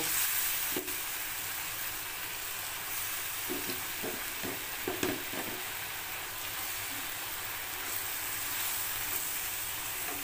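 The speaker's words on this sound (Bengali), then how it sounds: "এর উপরে আমি মাছগুলোকে এবার ছেড়ে দিয়ে একটু ফুটতে দেব।" Tilapia fish simmering in water in a pan, a quiet continuous bubbling hiss with a few soft knocks and clatters in the middle and no voices.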